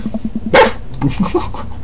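A dog in the dating game Dream Daddy gives a short burst of yappy barks followed by a few softer panting, whimpering sounds, close and clear with no talking over it.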